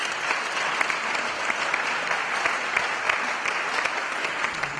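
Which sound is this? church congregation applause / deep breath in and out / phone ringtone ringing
church congregation applause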